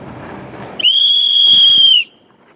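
A single loud, shrill whistle blast sounds close by and holds steady for about a second before cutting off sharply, following some low background noise.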